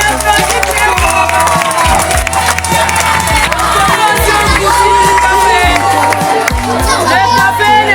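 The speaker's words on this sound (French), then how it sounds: "On applaudit très fort." A school end-of-year party crowd claps and cheers loudly and continuously over thumping music, with voices mixed into the noise.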